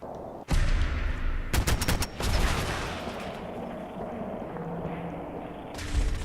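A sentry bot's integrated weapons in Fallout 4 unleash a sudden loud barrage, sharp bursts of rapid automatic fire and heavy blasts, then a long rumbling, roaring tail of explosions and echoing combat noise.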